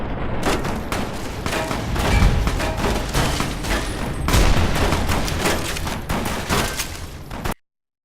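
Gunfire in the video game Fallout New Vegas: a dense, loud barrage of rapid shots and booms that runs almost continuously, with heavier blasts near the start and middle, then cuts off abruptly.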